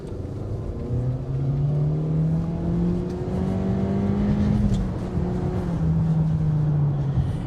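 A 2023 Honda CR-V EX-L AWD with a CVT pulls away from a stop, its engine drone rising steadily and holding a smooth sustained pitch, heard loud and constant from inside the cabin with road noise.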